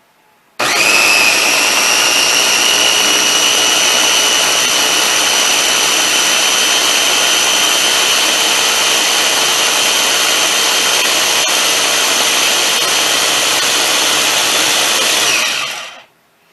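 A blender pureeing apples roars loudly and continuously for about fifteen seconds, a harsh high-pitched whirring that starts abruptly and cuts off at the end.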